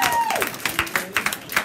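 A small audience claps for Everlasting Life, with a brief voice at the start and then uneven, fairly close hand claps continuing on their own.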